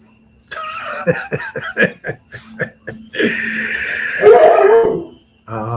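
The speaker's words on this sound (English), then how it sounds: "Stop barking, please." A dog barks and yips in a quick series of loud, close barks, then lets out a longer howling whine.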